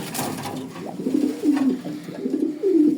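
Racing pigeons coo in a few repeated low, rolling phrases, close and fairly loud, with no talking.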